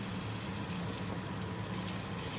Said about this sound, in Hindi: मैं मज़ीद हल्का हल्का सा पानी डालता रहूँगा